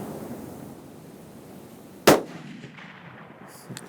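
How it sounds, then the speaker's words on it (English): A single sharp report from a hunting rifle, moderately distant outdoors, standing alone against quiet background noise with a faint tail. "He's getting ready to shoot."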